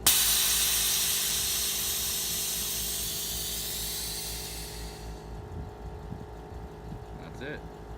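An Airlift 3P air suspension raises a Subaru with a loud, steady hiss of air that slowly fades out over several seconds, leaving a low hum with faint voices.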